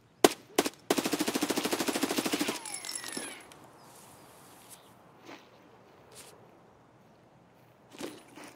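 Escape From Tarkov gunfire: two sharp shots, then a long rapid automatic burst lasting over a second, followed by scattered footsteps and gear rustle with a few distant pops.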